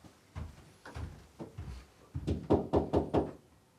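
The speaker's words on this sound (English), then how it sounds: "You go open the door." A house door being opened, a series of knocks and thunks from the handle and frame, ending in a quick run of louder rattling bangs close by.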